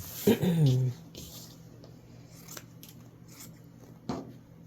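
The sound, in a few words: scissors trimming sewn fabric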